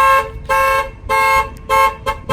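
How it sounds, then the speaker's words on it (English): A fleet car alarm sounds loud and close in repeated pulsing tonal bursts, four long blasts separated by short gaps and then a quick shorter chirp, with no voices. "If you hold it down, you can fire the alarm off."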